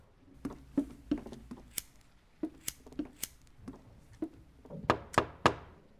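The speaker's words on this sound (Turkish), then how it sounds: "Aha kapı çalıyor." Knocking on a door inside the horror game Within the Unknown: a series of sharp, hollow knocks in uneven groups, fairly close and loud, with a heavier cluster of raps near the end and no talking.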